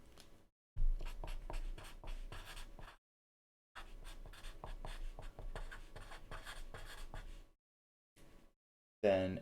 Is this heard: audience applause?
no